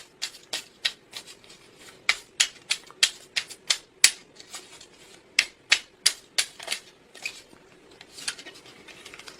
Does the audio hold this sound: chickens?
no